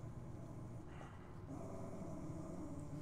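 A dog growls low and steadily in a continuous rumble for a few seconds, close by, over a faint background hum.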